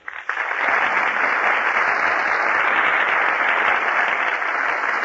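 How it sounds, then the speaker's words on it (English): A radio studio audience at the Gulf Theater applauds as Alice Faye, Herbert Marshall and Humphrey Bogart walk onto the stage, a dense, steady roar of clapping that starts abruptly and holds loud and unbroken throughout. "That applause you hear, ladies and gentlemen, is for Alice Faye, Herbert Marshall, and Humphrey Bogart, who are just entering our Gulf Theater stage."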